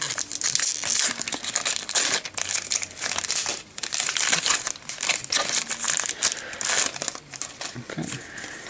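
A Pokemon trading card booster pack wrapper is torn and crinkled open up close, a continuous run of crackling foil rustles and crumples with brief pauses.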